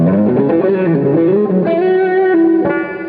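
A 1970s electric guitar on the rhythm pickup at full volume plays sustained, slightly distorted chords and bending notes, ringing close with no voices.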